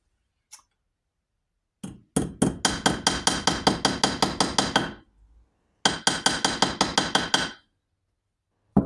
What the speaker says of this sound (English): I'm going to gently tap that bend out of things with a hammer over here on the anvil